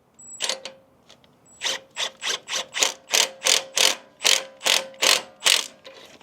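A ratchet clicks in a steady run of about a dozen sharp strokes while tightening a flange nut on a Jeep Gladiator track bar, close and clear with no talk.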